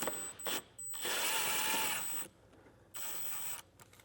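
Power driver removing T25 Torx fasteners from the fender well liner of a 2020 Audi Q5, in two short whirring bursts, the longer one steady for about a second and a half, then a brief second run after a pause.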